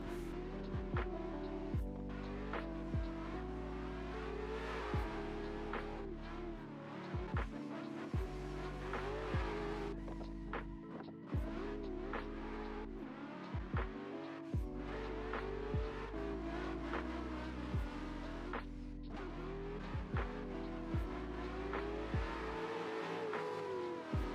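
A car drifting in Assetto Corsa, with a high-revving engine screaming through repeated gear shifts and long tire squeals, loud and continuous with rhythmic rises and drops in pitch.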